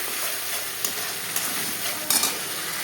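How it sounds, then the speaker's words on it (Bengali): Spice masala paste with sour yogurt fries in oil for an egg and fig curry, a soft steady sizzle with a few sharp spatula scrapes, no talk. "মশলাটাকে আমার তেল ছেড়ে দিয়েছি ভালো করে মশলাটা কষানো হয়ে গেছে"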